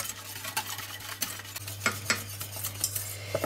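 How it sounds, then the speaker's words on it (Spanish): Cream heating in a pot being stirred vigorously, with quick repeated scraping and clinking strokes of a utensil against the pot over a low steady hum, close and alone. "En ese momento batiremos o removeremos enérgicamente para que se quede una crema lisa."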